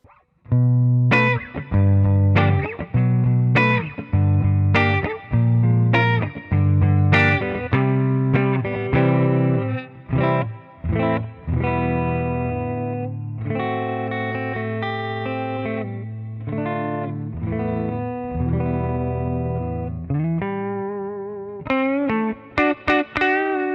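Clean electric guitar through a Mooer GE200 Plus multi-effects Fender Twin Reverb amp preset: strummed chords and single-note lines ringing out clearly with reverb, played alone with no talking.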